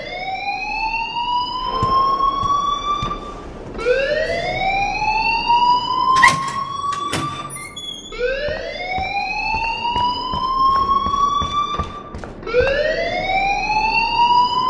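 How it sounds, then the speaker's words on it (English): A school alarm in the video game Life is Strange wails as a loud, repeating rising siren tone, cycling every few seconds, with a few sharp clanks and knocks layered on top. "please turn off that alarm since that's your job"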